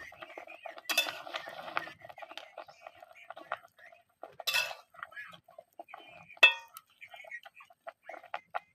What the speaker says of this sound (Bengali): এবার আমি ঢাকনা উঠিয়ে ভালোভাবে নাড়িয়ে দেবো